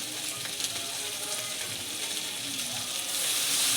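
Spices hit hot oil in a pan for a Bengali fish curry, giving a soft, even hiss and sizzle that rises a little toward the end, fairly faint throughout.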